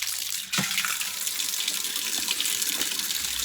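Water runs from a tap into a sink, a steady close hiss and splash that gushes a little louder after a brief dip near the start and then pours on evenly, with no voices.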